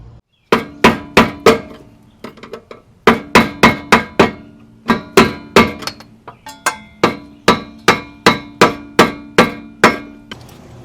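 A steady series of sharp metal hammer strikes rings out close and loud, knocking open the lock tab on a tie rod of an oil-burning Toyota Corolla, in rhythmic bursts with brief pauses between groups.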